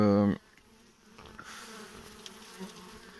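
Steady insect buzzing of many honeybees in a hive holding two queens, faint and close, with a brief louder tonal burst at the very start before the droning continues.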